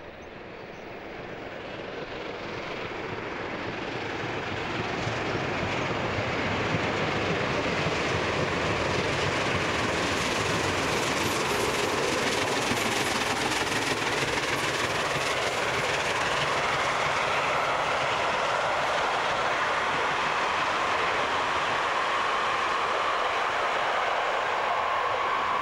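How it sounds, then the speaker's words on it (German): Red express steam locomotive 18 201 runs at speed over rails, a loud, steady roar of rolling wheels and rushing noise that swells in the first seconds and then holds close and constant with no talk. "Bei Parsberg dampft der jetzt rote Renner über die Gleise."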